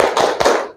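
Two sharp, close hand claps in quick succession during a classroom clap chant, with a short ring of room echo after each.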